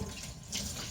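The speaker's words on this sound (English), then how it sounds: "just rinse it through, strain it off again." Water runs and splashes steadily as it strains off rinsed sprouting seeds, a soft close trickle for about a second.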